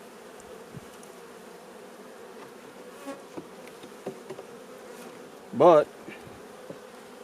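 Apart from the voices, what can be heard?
honeybees in a hive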